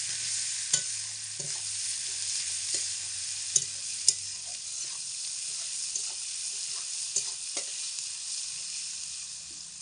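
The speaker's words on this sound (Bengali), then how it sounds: "রসুন আর পেঁয়াজ কুচি দিয়ে খুব ভালো করে লাল লাল করে ভেজে নেব" Garlic paste and chopped onion fry in oil over a medium flame, a steady close sizzle with a few sharp clicks of stirring scattered through it.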